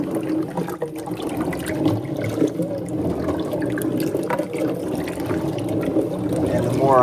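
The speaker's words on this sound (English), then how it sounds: "So I'll just move them around, just get them all moving, just to get them a good rinse." Harvested chestnuts are stirred and rinsed by hand in plain water, producing continuous sloshing, swishing and trickling that stay close and steady throughout, with a voice talking over them.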